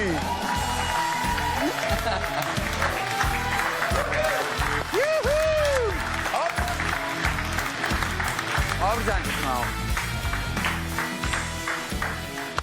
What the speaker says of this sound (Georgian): მივცეთეთ აპლოდისმენტები.